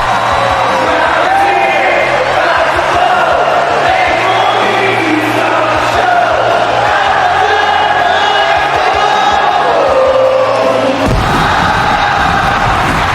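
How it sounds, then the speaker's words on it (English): An arena crowd in the WWE 2K25 video game sings along to a wrestler's entrance theme, a loud, continuous chant over the music that breaks off briefly near the end. "the crowd singing along to the song of the American Nightmare"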